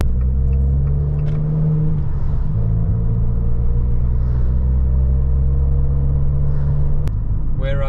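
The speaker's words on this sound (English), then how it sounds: "I like to let people hear what the car sounds like" An Abarth 595 hatchback's engine drones steadily from inside the cabin while driving, a low continuous rumble with a slight dip in pitch partway through, then a brief sharp click near the end.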